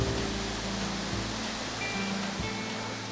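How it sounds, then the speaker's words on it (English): A waterfall in the North Carolina game lands, among rock outcroppings and caves, gives a constant, soft rushing hiss. It sounds fairly distant and low in level, with no voices. "the beauty of the waterfalls."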